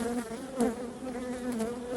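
Honey bees crowd a hive frame during colony splitting, with young bees emerging, giving a steady close buzzing drone that swells and dips slightly throughout with no talking.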